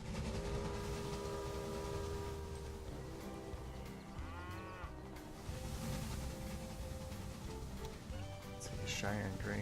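Trains rolling through the Northwest map of Railway Empire, with steady low rumble, tonal whistles and horn-like bursts, a brief animal lowing, all under a continuous busy mix of game sound and music.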